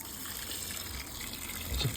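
Collected rainwater pours from an IBC tank onto a compost tub, a steady gushing splash that continues throughout and swells slightly near the end.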